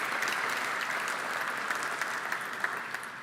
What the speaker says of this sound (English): It's unusual for a regulator to get applause.